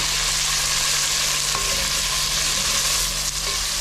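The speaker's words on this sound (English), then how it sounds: "As you can see now, we put our tomato." Tomatoes sizzle loudly in a hot pan during Kenyan matoke cooking, a dense and continuous hiss of frying with faint stirring underneath and no speech.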